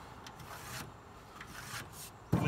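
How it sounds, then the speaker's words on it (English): A pencil is drawn along hardwood plywood to mark a straight line, making faint scratchy rubbing strokes in a few short passes, ending with a soft knock. "Again, draw a straight line."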